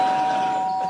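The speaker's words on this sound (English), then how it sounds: "what's wrong with the doorbell?" Doorbell ringing once at a brick house, a single bright sustained electronic tone, loud and close, with nothing else heard alongside.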